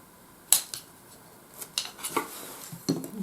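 A wooden fork, spoon and chopstick set being handled, giving a handful of light, dry clacks and taps spread unevenly over a few seconds at close range, with no talking.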